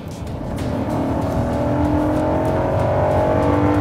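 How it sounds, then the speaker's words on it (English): Hyundai Equus luxury sedan accelerating hard from a full-throttle punch, engine note rising steadily and loud from start to finish, heard from inside the heavy car with no talking. "the real test in any car, of course, is when you punch it"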